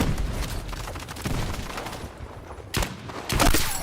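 Sniper rifle shots in the video game Battlefield 6, a few loud, sharp cracks with booming tails spread across a few seconds, mixed with other battlefield gunfire and no speech.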